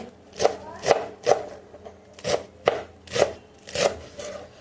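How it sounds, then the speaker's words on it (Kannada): Close, rhythmic knife chops through malabar spinach leaves on a board, about nine crisp strikes in an uneven steady pace, each a short sharp thud with a brief rustle, no talking. "ನಾನೀಗ ಸೊಪ್ಪನ್ನು ಕಟ್ ಮಾಡ್ತೀನಿ"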